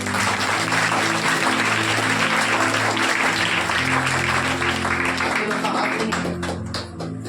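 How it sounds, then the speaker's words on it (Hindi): A church congregation claps hands loudly and continuously during worship, with sustained tonal voices or music running beneath the clapping. "जोर से हम ताली बजाएंगे उस पर"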